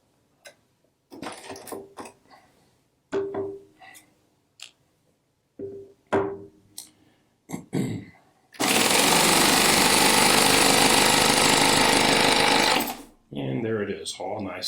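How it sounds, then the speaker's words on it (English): Baby Lock serger air-threading its needles: a loud steady blast of air for about four seconds, preceded by small clicks and handling taps of the threading mechanism, with a voice speaking nearby. "Now this machine has air threading for the needles as well."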